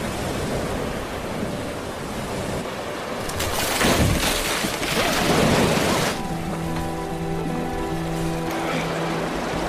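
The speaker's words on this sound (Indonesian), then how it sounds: "Sungai satu-satunya yang menjadi jalan untuk Chris kembali kini tak bisa dilewati karena arus yang terlalu" Broad, steady rushing of a fast-flowing river current, a dense roar that swells louder midway before settling, with a faint tonal hum appearing in the later part.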